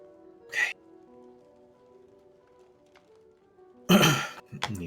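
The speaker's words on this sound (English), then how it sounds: "you hear her kind of clear her throat" A woman clears her throat in a brief, breathy rasp, then pauses and clears it again with a louder, rougher burst near the end, heard up close against a quiet background.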